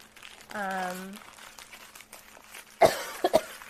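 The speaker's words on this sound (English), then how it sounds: "I'm just grabbing a little bit of gum" A stick of chewing gum being unwrapped gives a brief crinkle of wrapper paper and a few sharp crackles after a hummed voice note and a quiet stretch; a throat-clearing cough sound mixes in near the end.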